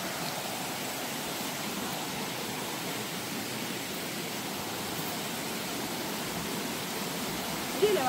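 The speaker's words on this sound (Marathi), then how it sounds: "आवाज बघ पाण्याचा काय येते." A full waterfall in the Konkan region rushes with a steady, loud, unbroken roar of falling water that fills the whole span without letup.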